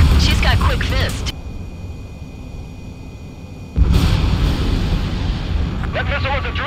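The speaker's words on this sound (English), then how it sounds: "That missile was a direct hit to our bridge." A missile strikes a ship's bridge in Ace Combat 7, arriving as a sudden loud explosive impact after a muffled rumbling stretch, followed by a sustained roaring blast; voices are heard before and after.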